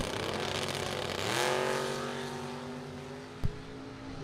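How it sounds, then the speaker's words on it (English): Drag race cars launching side by side at a drag strip during a Super Pro bracket event, a loud engine roar that swells and rises in pitch as they pull away, with a sharp bang near the end. "Very good drag race."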